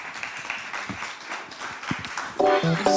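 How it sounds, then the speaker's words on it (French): Applause from a live audience at the close of a morning media panel in France, a steady wash of many hands clapping with a few louder claps, swelling toward the end where a brief musical tone enters. "Sous les applaudissements"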